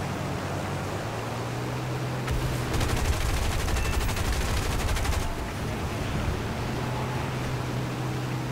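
Aircraft machine guns fire in a single sustained burst of about three seconds in a tier 1 War Thunder air battle. The rapid rattle sits over a constant engine drone and is fairly close and steady.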